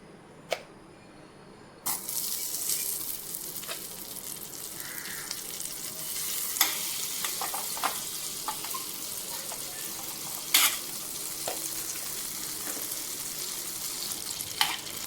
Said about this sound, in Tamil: பாருங்கள், பட்டர் நல்லா உருகிடுச்சு.